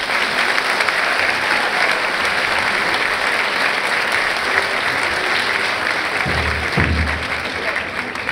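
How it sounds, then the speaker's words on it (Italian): Sustained applause from a theatre audience at a band concert in Lucca's Teatro del Giglio, a thick, even roar of clapping that carries on for the whole stretch, welcoming the band's conductor. "diretto dal capobanda Andrea Battistoni, che accogliamo con un grosso applauso."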